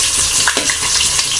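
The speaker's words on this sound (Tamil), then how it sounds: "இப்போ நம்ம வெங்காயத்தையும் போட்டு இது தாளிச்சுக்கலாம்." Onions frying in oil for biryani give a steady, dense sizzle with small crackles and bursts of stirring, loud and close, with no talking.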